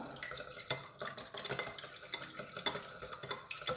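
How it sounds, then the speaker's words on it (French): A fork or spoon whisks an egg's yolk and white together in a small bowl, quick rhythmic clinking and tapping against the sides, faint and close, no voices. "Vous mélangez bien le jaune avec le blanc."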